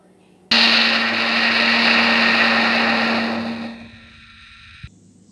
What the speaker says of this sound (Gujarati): એલોવેરાના નાના નાના ટુકડા કરી મિક્સરમાં ગ્રાઇન્ડ કરીશું